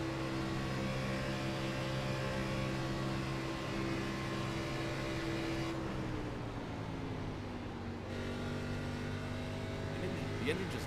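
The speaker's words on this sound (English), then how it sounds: "The engine just died on Kinsley's car" A race car's steady engine drone in a Talladega racing video game suddenly drops away and winds down as the engine cuts out, with a commentator talking over it.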